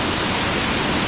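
Dense, unbroken roar of heavy water pouring straight down a concrete spillway, loud and close with no gaps.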